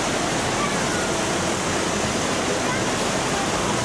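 Rushing water on a theme park boat ride, a steady, loud, broadband roar like a waterfall or churning stream that fills the whole stretch without pause, with no talk audible.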